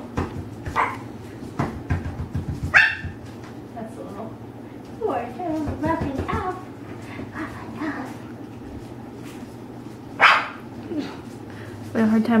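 French bulldog puppies bark and whimper in short, scattered yips over a hardwood floor, close by, mixed in with people talking through much of the clip.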